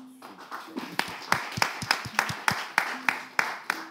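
A small crowd claps briefly at a prize giveaway, uneven hand claps building into short applause, with a French-speaking voice faintly underneath at the start.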